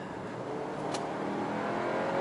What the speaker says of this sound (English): Now full throttle from 60 kilometers per hour.